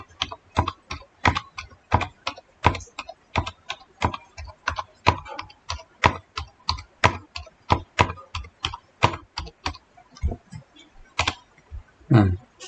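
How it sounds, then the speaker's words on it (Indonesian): Steady typing on a computer keyboard, close and crisp, with evenly spaced key taps in a quick rhythm that slows slightly toward the end. "Nah, kita ketik 1 sampai 15."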